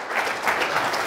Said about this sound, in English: I'd like everybody to give a round of applause to Tommy Ice and Joel Richardson.